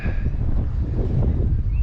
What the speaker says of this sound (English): Damn, pretty windy.